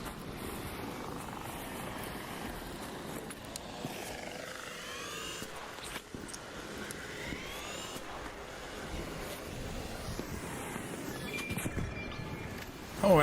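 A bombardier enemy machine in ARC Raiders flies overhead with a faint, steady mechanical whirring drone under low game ambience.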